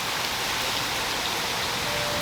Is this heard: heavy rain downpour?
yes